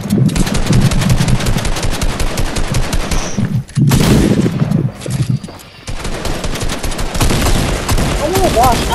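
Rapid automatic gunfire from a Fortnite match fills the scene in dense bursts, pausing briefly near the middle before resuming loud and close, with faint voices under the shooting.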